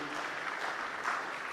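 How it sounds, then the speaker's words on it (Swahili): A crowd at a public gathering applauds for a national president, a brief continuous wash of clapping heard at a moderate distance, fairly quiet. "makofi mengi"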